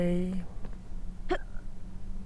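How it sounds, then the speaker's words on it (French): A single short, abrupt burp bursts out after a moment of brief vocal sound, followed by quiet background noise. "Oh là là, j'ai roté"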